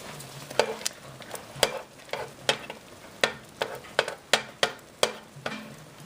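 Chicken cooks with squeezed garlic in a hot pan, a soft sizzle running underneath while a utensil scrapes and stirs in repeated sharp strokes, roughly one or two per second, close and fairly clear.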